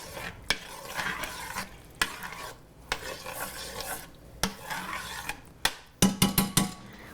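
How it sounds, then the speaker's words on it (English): Tomato sauce and wine stirred in a pan over a stove on high heat, with a steady sizzle under scraping spoon strokes and a quick burst of clatter near the end, no talking. "We're going to stir this up."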